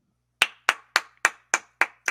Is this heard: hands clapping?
yes